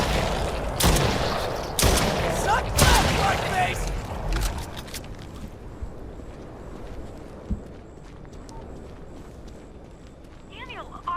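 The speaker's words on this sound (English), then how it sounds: "I heard gunfire." Several sharp, loud bursts of gunfire in quick succession early on in the video game Stray Souls, followed by quieter ambient tones and faint clicks, no speech.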